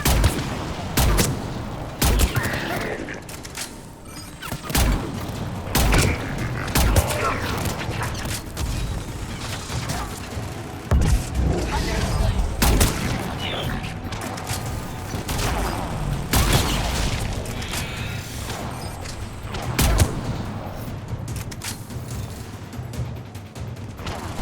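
Rifle gunfire in a video game, repeated sharp shots scattered irregularly across a long stretch of battle noise, some close and loud, others softer, with mechanical clanks between.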